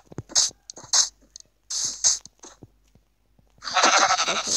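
A sheep in a survival crafting video game gives several short, sharp bleats separated by gaps, then a longer, noisier stretch of bleating.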